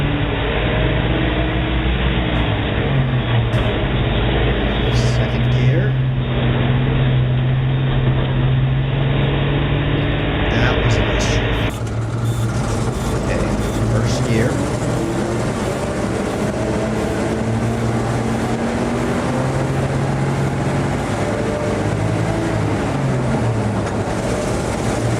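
A 70-year-old truck's engine drones steadily and loudly through a gear change, its tone shifting partway as the gearbox moves from second to third, with constant cab rumble throughout.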